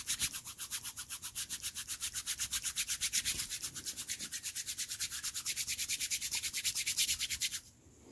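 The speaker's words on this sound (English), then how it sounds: "I'm just rubbing my hands together here." Hands rubbing together quickly, a close, steady series of rhythmic swishing strokes, about three per second for nearly eight seconds, then stopping.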